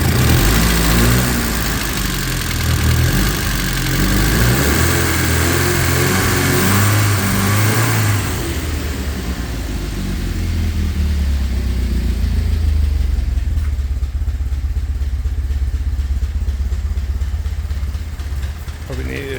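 An Alfa Romeo stepnose car engine idling during its run-in period, loud and steady with a tappety, rattly mechanical clatter, the tone shifting partway through.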